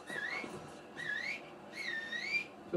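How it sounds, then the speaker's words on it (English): A player character in the video game Red Dead Online whistles for a horse three times. Each is a short, clear, rising-and-falling whistle, evenly spaced and close. "Just whistle your horse."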